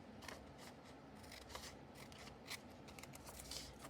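Scissors cutting carefully through the centre of paper while preparing a zellige tile pattern: a quiet, close series of crisp snips and rustles, irregular in rhythm, with no talk.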